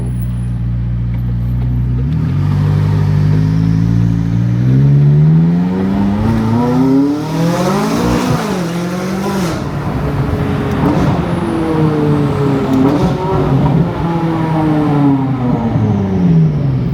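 McLaren 570S Spider engine accelerating through the gears, a loud close rising roar that climbs in pitch, drops at each shift and climbs again, heard alone without talk.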